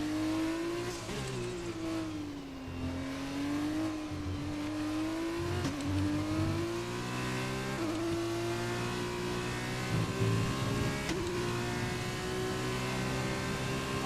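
An F1-style race car engine in an esports racing game screams at high revs, pitch rising and dipping through gear changes and corners in a continuous loud drone with no talk.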